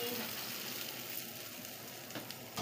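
Boiled chickpeas tipped into a hot frying pan set off a faint, steady sizzle with soft stirring scrapes, quiet and continuous throughout.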